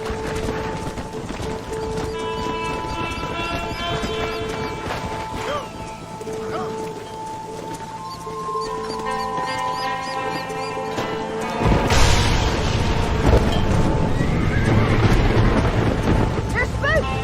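Game horses clip-clop under a steady wash of wind and music in Red Dead Redemption, then a loud rumbling surge at around twelve seconds as the spooked herd breaks into a stampede toward a cliff.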